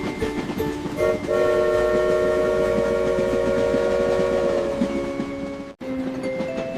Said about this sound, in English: All aboard the donut train!